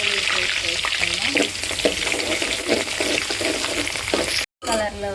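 Onions sizzling and crackling loudly in hot oil in a home kitchen pan, a steady dense fry with occasional stirring, broken by a brief gap near the end.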